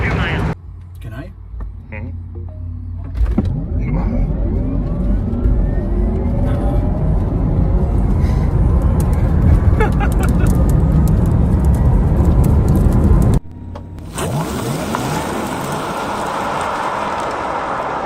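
A Rimac C Two, the four-motor electric hypercar, accelerating down a quarter-mile strip: a loud rising electric whine and rushing wind over the run, with a sharp change near the end as the sound shifts, no talk.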